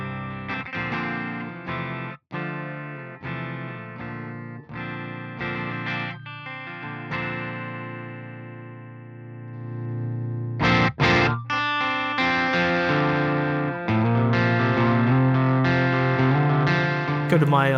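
A super clean electric guitar tone comes from a Bogren BDM 410 amp, a Marshall JVM410H, with ringing notes and chords played close and loud. Pauses and a brief break punctuate the phrases, and a fuller passage follows.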